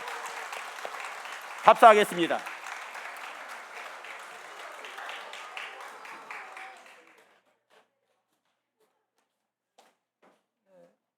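Church congregation applause at a retirement and elder-pastor installation ceremony after a bouquet presentation, with one sharp clap burst near the start, then a thinning patter under a spoken line before fading to near silence.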